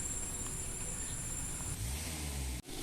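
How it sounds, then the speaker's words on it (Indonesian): A 2011 Toyota Avanza engine revs up during tuning, a steady low engine drone rising in pitch after about two seconds then cut off abruptly near the end, with a high whine over it. "setelah cairan habis kita lakukan pengegasan yang selanjutnya, yang terakhir supaya didapat hasil yang maksimal"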